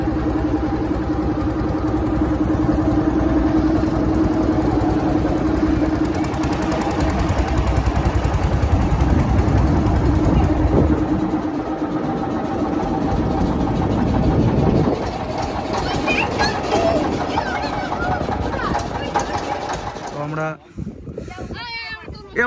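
A motor boat engine runs steadily on the Ganges, a loud, continuous, mid-pitched drone that continues throughout, with voices faintly audible beneath it.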